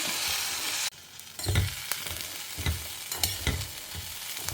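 Curry leaves frying in oil for a Tamil home lunch, a steady hiss of sizzling broken by a few sharp pops and stirring clatters, close and fairly loud with no talking.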